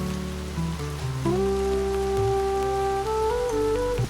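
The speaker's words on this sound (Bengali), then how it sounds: "সবখানেই তো জল পড়ছে।" Rain falls steadily on a roof and the ground during a flooded market scene in a Bengali cartoon, a continuous close patter with sustained tonal music layered over it.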